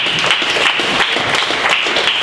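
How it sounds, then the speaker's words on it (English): Audience applause for a panel at a live crowdfunding event in Washington, D.C.: steady, dense clapping from a crowd, fairly loud and unbroken for the whole stretch. "So please give a round of applause for all the panelists in the afternoon."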